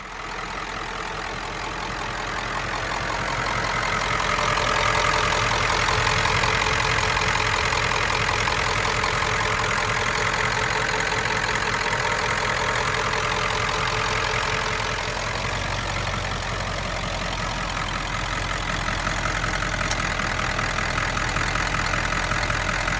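A Ford F-250 pickup with a 7.3L Power Stroke diesel sits idling, a steady gravelly clatter with a low rumbling drone, close and unbroken throughout with no talk over it.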